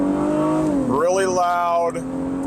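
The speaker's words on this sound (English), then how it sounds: "we're gonna pull out here and we're gonna do a quick launch. This is all-wheel drive." An all-wheel-drive three-row SUV launches from a standstill, its engine droning loudly and climbing in pitch, dipping briefly at a gear change, then pulling upward again as it keeps accelerating.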